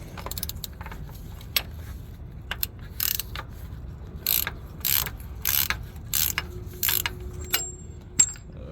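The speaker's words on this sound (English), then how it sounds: "Alright, it's a 24 deep socket. There's the ratchet handle." A ratchet handle on a 24 mm deep socket, used while changing the oil pressure sensor on a 2012 Ford Transit Connect XL, gives several short bursts of close, crisp pawl clicking, separated by quiet pauses.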